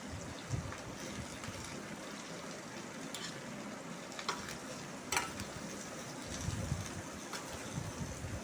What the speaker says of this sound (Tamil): நெல்லிக்காய் நல்லா வதங்குது பாருங்கள்.